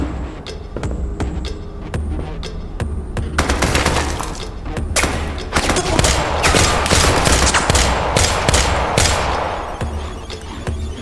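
Heavy, sustained gunfire in the VR shooter Tactical Assault VR: dense rapid volleys of close, loud shots mixed with breaking glass, running continuously with no talk over it.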